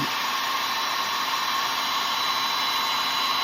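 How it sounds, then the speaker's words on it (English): A hair dryer blows steadily and close up, drying wet paint on a carved wooden cardinal Christmas ornament, a continuous even whoosh with no other sounds. "And the hairdryer will do this real nice."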